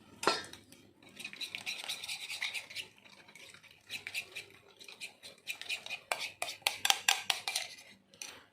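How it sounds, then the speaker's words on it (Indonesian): Egg yolks for a fluffy cheesecake stirred in a bowl, a close scraping and clinking of utensil against the dish in quick irregular bursts, louder toward the end. "kuning telurnya kita aduk terlebih dahulu"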